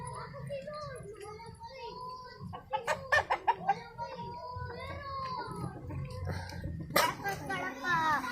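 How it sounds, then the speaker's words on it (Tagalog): Chickens and a rooster cluck and squawk nearby in a series of sharp, uneven calls, with children and adults talking over them. "Daming manok."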